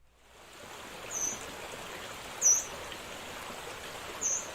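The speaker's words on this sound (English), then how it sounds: "To the birds in the morning." Birds sing in the morning beside running water near Lake Bemidji, a steady wash of flowing water with a few brief high chirps rising above it.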